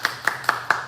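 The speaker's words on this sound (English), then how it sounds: "me and Mr. America, we golf clap." Four light, evenly spaced hand claps of a sarcastic golf clap, close and crisp, with no talking over them.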